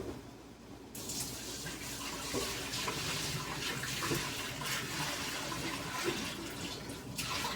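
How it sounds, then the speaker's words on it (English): Leftover water from rendering beeswax pours out into a kitchen sink, a steady splashing rush that runs on for several seconds, fairly close and with no voices over it. "I'm just going to pour the rest of this water out."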